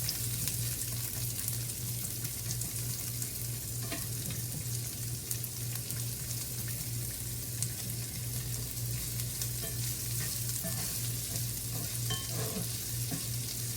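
Onion fries in leftover bacon grease in a pan for green beans, an even, continuous close sizzle with a faint low hum beneath and occasional soft stirring ticks.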